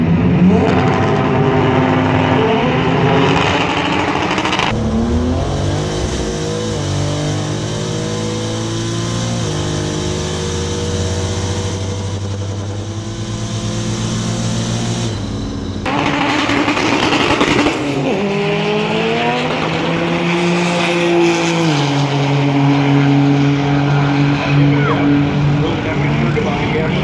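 Import drag racing with Honda Civics, one a 1997 Civic with a 3.5 liter V6 and rear-wheel drive, the other front-wheel drive: loud, close engines rev and climb through gears in rising sweeps, over excited commentary.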